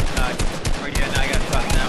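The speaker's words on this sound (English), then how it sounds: "He's getting shot from both sides." Dense bursts of rapid gunfire from the video game Fortnite rattle continuously, loud and close, firing in quick repeated volleys with no break.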